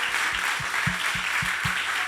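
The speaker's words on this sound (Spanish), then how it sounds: "Dale un fuerte, fuerte aplauso al Señor." Church congregation clapping fills the space with a dense wash of applause, while a steady rhythmic beat of about two per second pulses underneath.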